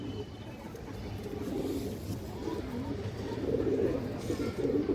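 A high flyer pigeon coos in soft, low, repeated murmurs, close but quiet, over faint background noise.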